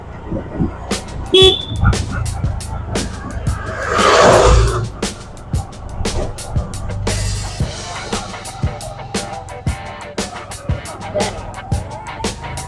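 A tuk-tuk horn honks briefly amid engine rumble and sharp clicks, with a louder sustained burst in the middle, on a road in Sri Lanka.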